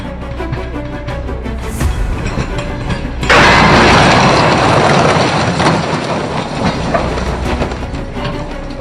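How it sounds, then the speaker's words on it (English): A train in a controlled crash test in Russia, with heavy mechanical rumbling and clattering that suddenly swells into a loud, dense roar of grinding metal partway through and stays harsh to the end. "controlled train crash tests were held casually to assess some of the train's features like emergency braking"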